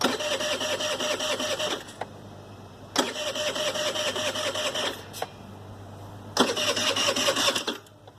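A 2018 Tao Tao 50cc scooter engine cranks in three bursts of a couple of seconds each with short pauses between them, a buzzing mechanical whir close by, with no voices.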